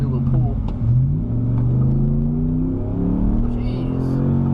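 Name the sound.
2013 Dodge Ram 1500 Hemi truck accelerating hard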